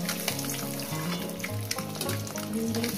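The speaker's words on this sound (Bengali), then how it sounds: "ডিমগুলো আমার ভাজা হয়ে গেছে।" Eggs frying in hot oil in a pan for an egg curry, giving a steady close sizzle with scattered crackles and pops across the whole stretch, no voices over it.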